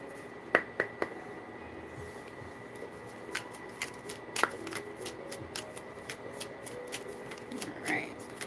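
Tarot cards being shuffled, quiet crisp snaps and riffles spaced irregularly over a soft steady room hum, close to the listener.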